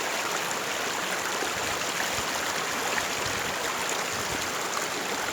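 Clear water flowing in a stream beside rice fields, a steady broadband rush close by with no pauses or voices.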